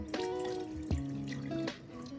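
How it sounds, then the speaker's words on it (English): A cup of water pours into a pot on a stovetop for chai, giving a gurgling splash with shifting tones and a few sharper drips, fairly close, with no voices. "add that cup to a pot"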